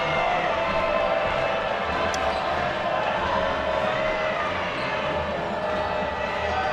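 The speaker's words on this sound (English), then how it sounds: "Crowd really into it." Crowd noise fills a college men's basketball arena during a free-throw break, a steady, loud, dense roar that holds at the same level throughout, with no clear individual voices.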